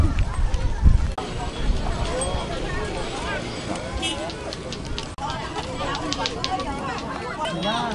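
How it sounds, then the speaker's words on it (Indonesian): A pair of racing bulls gallops past the main grandstand at a karapan sapi bull race in Baliase, hooves drumming amid loud crowd chatter and an announcer's voice over a busy outdoor din. "kita lihat bersama melintasi tribun utama pasangan sapi Bintang Barbar."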